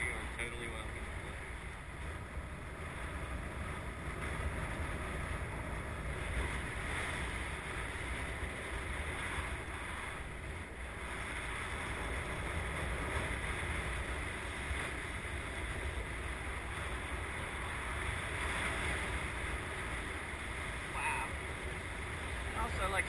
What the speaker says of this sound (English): the wind is still kind of picking up and getting stronger through the morning